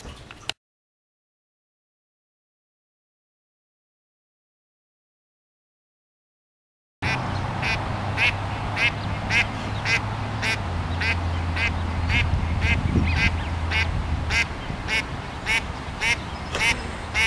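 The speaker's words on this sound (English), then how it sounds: "Quack, quack, quack" After several seconds of silence, ducks quack in a steady, rapid rhythm of repeated short calls, moderately loud, over a low background rumble.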